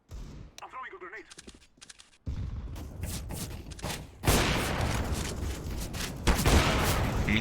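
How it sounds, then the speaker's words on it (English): A grenade thrown and exploding in an online shooter game, heard as dense bursts of gunfire and a heavy blast that rises sharply partway through, loud and sustained, with voices talking over the game. "I'm throwing a grenade."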